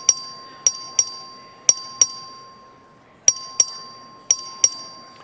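A voting bell rings in the Texas House chamber, a bright, metallic ding struck about nine times in uneven pairs and singles, each tone ringing briefly before fading, with no voices over it.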